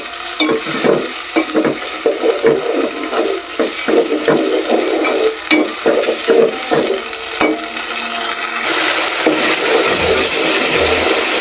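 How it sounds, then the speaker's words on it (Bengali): Ginger-garlic paste, turmeric, green chillies and salt sautéed in a pan for an egg, drumstick and potato curry: a loud, steady sizzle with repeated scraping and stirring strokes and a fuller frying hiss toward the end, no voices. "কিছুক্ষণ কিন্তু কষাতে হবে"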